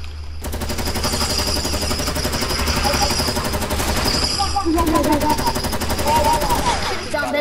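Sustained rapid automatic gunfire from a video game firefight, dense and loud throughout with short breaks, mixed with game effects and occasional talk from players in the background.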